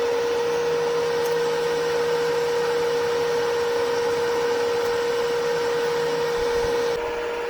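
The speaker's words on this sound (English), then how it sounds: "There's a small muffin fan for keeping all the electronics cool." A small muffin cooling fan inside a 200-amp 110V/220V MIG welder runs steadily, giving a constant close hum with a whirring tone and no talking.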